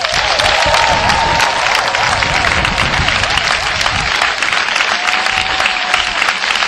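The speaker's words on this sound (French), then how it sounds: "ce ne sera pas de trop si nous acclamons encore le Seigneur une fois" A church congregation applauds in acclaim of the Lord, a dense, loud and sustained wash of clapping from many hands that carries steadily from start to finish.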